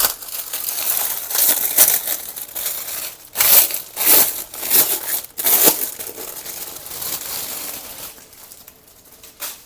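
Crinkly plastic wrapping being handled and torn open, a series of sharp rustling bursts close by, fading to quieter crackles.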